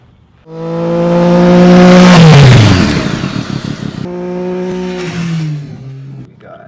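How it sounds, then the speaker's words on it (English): A motorcycle roars up close, its engine revving loudly and then dropping in pitch as it rides over phones in a drop test, followed by a second, shorter rev and fade; a faint voice is heard near the end. "Let's go ahead and see how these compete versus a motorcycle."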